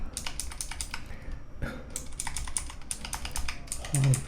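Steady typing on an experimental optical mechanical keyboard with PBT keycaps: a dense run of crisp, close keystrokes, ending with one heavier thump.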